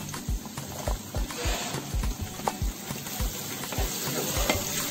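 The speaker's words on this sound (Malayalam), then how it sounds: "അതിനകത്തേക്ക് നമുക്കേ ചെറിയ ഉള്ളി ഇട്ട് കൊടുക്കാം കുറച്ച് കറിവേപ്പില" Shallots and curry leaves hit coconut in a pan for Kerala beef perattu, crackling close up with a steady sizzle and a run of rhythmic spatula knocks and scrapes, loud and without speech.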